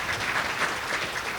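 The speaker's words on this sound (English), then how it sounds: "Give yourself a round of applause." Audience applause at a diversity awards celebration, a brief burst of steady, even clapping from a large crowd with no talking.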